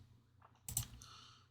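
Computer mouse clicks while handling a card deck in LackeyCCG deck-building software for the Mythos collectible card game: one sharp, close click burst midway, then a softer trailing tail over a low steady hum.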